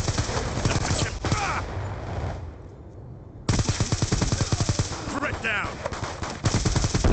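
Rapid automatic gunfire in a video game firefight, dense bursts of machine-gun shots with a brief lull in the middle, loud and close, mixed with a player shouting over the action.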